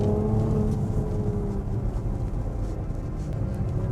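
Maserati Levante S GranSport engine drones steadily while driving on a rough, potholed road, a deep continuous rumble with road noise, close and even throughout.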